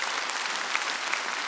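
A church congregation at an autumn dawn revival service claps hard together, a dense continuous burst of applause filling the room without pause.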